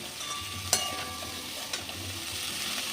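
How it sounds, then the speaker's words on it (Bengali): Cabbage and capsicum stir-frying in a pan for Kolkata-style chowmein, a steady close sizzle with a couple of sharp spatula scrapes and clinks, no talking. "ক্যাপসিকাম আর বাঁধাকপি দিয়েও আর একটু নেড়ে নেবো"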